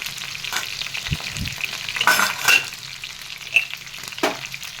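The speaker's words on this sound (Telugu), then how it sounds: "మనం ఇప్పుడు ఇదే ప్యాన్లు ఇలాగని ఉల్లిపాయ వేసేసుకున్నామండి" Onions and green chilies fry in a pan with a steady close sizzle, broken by a few louder scrapes and clatters as they are stirred.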